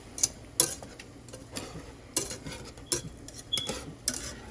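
Onions and peppers are stirred into gravy in a pan for smothered pork chops, making soft scraping and clinking utensil taps at an uneven pace, close and fairly quiet, with no talking.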